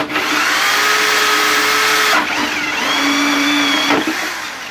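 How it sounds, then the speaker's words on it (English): A power drill whines loudly and steadily as it bores into the body of a camper van during a home-made 12-volt air conditioner build, the motor pitch dipping briefly twice before running on, with no talking. "So I'll begin by drilling."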